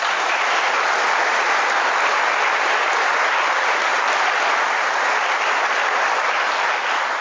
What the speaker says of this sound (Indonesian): Coba tepuk tangan sekali lagi.